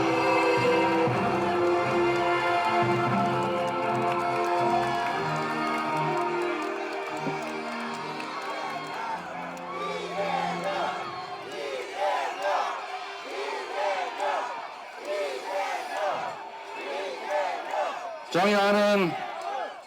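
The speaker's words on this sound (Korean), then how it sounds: "뜨거운 박수와 함성을 부탁드립니다." Political rally crowd in Incheon, South Korea, shouting and cheering with scattered applause, a dense roar that swells and breaks into bursts of chanting voices, with a loud amplified voice rising near the end.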